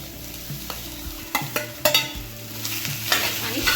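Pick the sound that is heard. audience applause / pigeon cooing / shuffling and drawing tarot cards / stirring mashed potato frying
stirring mashed potato frying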